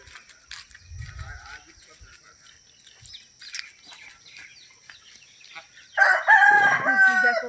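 A rooster crows loudly near the end at a home where chickens are kept, after a stretch of quiet clucking, rustling and faint bird calls close by.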